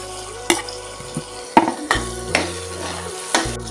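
Chopped onion, tomato and capsicum hit a hot pan and sizzle, with a few sharp stirring scrapes and pan knocks over a steady frying hiss; no talking.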